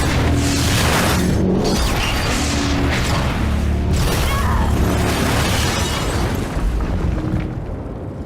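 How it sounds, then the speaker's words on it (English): Massive lodge explosion in the game Until Dawn, a sustained deep roaring blast with crackling debris and rumbling that fills the whole stretch, loud throughout and tapering slightly at the end. "Sam or Mike will ignite the explosion regardless, killing all Wendigos inside."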